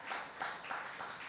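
Congregation applauding during a church service, a close, rhythmic wave of hand claps in a steady beat, fairly quiet and brief.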